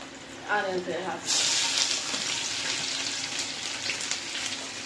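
Green chillies and curry leaves dropped into hot oil, bursting into a loud steady sizzle with crackling pops after a voice speaks briefly at the start.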